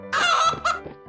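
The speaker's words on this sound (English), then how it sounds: "chicken," A chicken gives a short pair of close, loud clucks lasting about a second.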